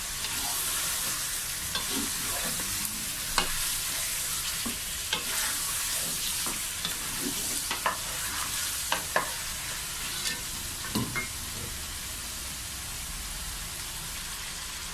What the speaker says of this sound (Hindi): अब इसको 1 मिनट हम फ्राई कर लेंगे चिकन को, कि इसका कलर तब्दील हो जाए बस।